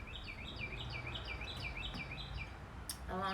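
Birds chirp outdoors in quick repeated rising tweets, a rhythmic series of bright calls in the middle distance over a low ambient rumble, with a brief different trilling call near the end.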